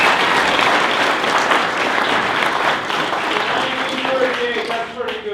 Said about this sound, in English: everybody will now give Carl Easterly a round of applause